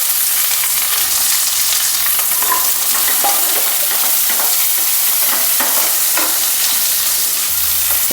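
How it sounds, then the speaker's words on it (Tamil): Onions and banana stem frying in oil for a poriyal, a loud, dense, unbroken sizzle with a few faint spatula scrapes, close to the pan and free of talking. "ஸோ கொஞ்சமாக இப்போ வெங்காயம் வதங்கணும் இல்லையா,"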